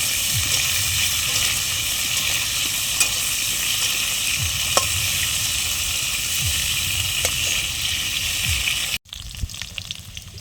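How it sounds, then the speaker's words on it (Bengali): Potatoes fry in a pan at an outdoor picnic beside a forest, giving a loud, constant sizzle with occasional stirring scrapes before a sudden drop near the end leaves quieter, uneven crackling. "আলুগুলো ভাজা করে নিচ্ছে।"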